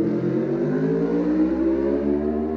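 Norton superbike racing past at Ramsey during the Isle of Man TT superbike race, a steady, loud, high engine howl held at moderate revs with a slowly falling pitch as it passes by, alone.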